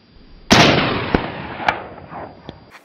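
A single loud, sharp crack of a FIE .22 LR pistol being fired at an outdoor range, followed by a long ringing decay and a few fainter clicks and taps afterward.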